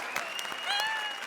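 Studio audience applause at a Comedy Circus show, a steady broadband patter of clapping that fills the whole moment with a few faint voices and tonal sounds running underneath.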